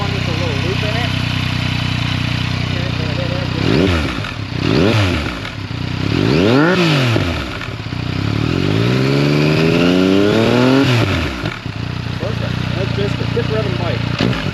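Motorcycle engine revving in short bursts, a KTM SuperDuke 1290R or Yamaha MT-09, with several sharp rising and falling blips over a steady idle, loud and close, ending in a longer rev that fades back down.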